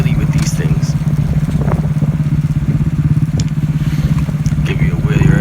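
A Honda Grom motorcycle engine drones steadily and loudly while being ridden downtown in first gear, its throttle held open with a constant buzzing pulse throughout, with some rattling crackle on top.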